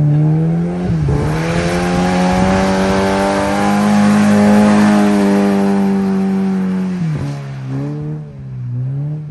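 A car accelerates hard through a roundabout, its engine revving up loud and close in a steady climbing whine before easing off near the end, with no voices.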